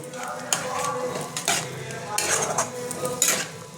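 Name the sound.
stirring and frying masala with tomato in a pan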